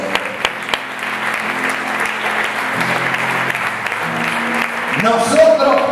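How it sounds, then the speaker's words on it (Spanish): Church congregation applauding during a sermon, a steady wash of clapping from many hands with some voices and a few rising shouts near the end. "Denle fuerte aplauso al único hijo que tiene Dios."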